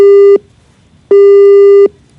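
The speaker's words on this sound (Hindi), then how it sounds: "हमारा फोन इन्होंने कट कर दिया।" Telephone busy tone after a call is cut off: two loud, steady electronic beeps with a short gap between them, close and clean with no talk.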